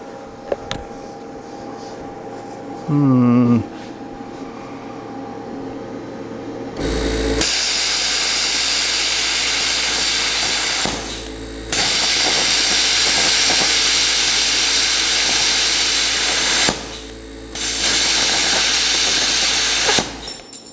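A Yeswelder CT2050 plasma cutter slices 1/4 inch painted steel at 45 amps, a loud harsh hiss roaring in three long bursts with short pauses between, preceded by a quieter hum and a brief clattering chirp.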